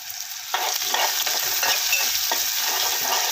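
Onions and spices with turmeric sizzle and fry steadily in a pan with soft stirring scrapes, loud and close, no voices.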